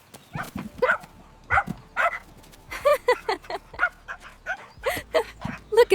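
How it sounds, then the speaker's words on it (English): A dog barks in short, irregular bursts, some single and some in quick pairs. The barks are moderately faint and scattered across several seconds against a quiet background. "Look at the dog."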